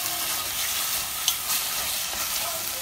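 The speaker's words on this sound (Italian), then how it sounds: "facciamo un po' cuocere insieme la cipolla" Chopped onion with salt and pepper sizzles and fries in a pan, a continuous close hiss with a faint stir or clink, and no talk over it.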